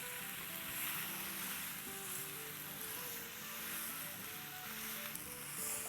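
Mutton frying in a karahi gives a steady broadband sizzle with soft crackle and bubbling, loud and close, running without a break and with no voices.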